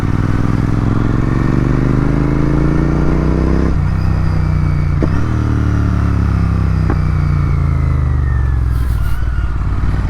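A Yamaha MT-15 motorcycle cruises on a highway, its engine droning loud and steady at close range, with pitch shifting through gear changes, alongside rushing wind and road noise.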